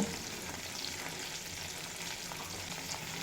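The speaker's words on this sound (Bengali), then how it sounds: "আলু বেগুন খুব ভালোভাবে ভেজে নেব" Potatoes and eggplant frying in a pan with salt and turmeric, a steady soft sizzle with faint stirring scrapes, close and alone.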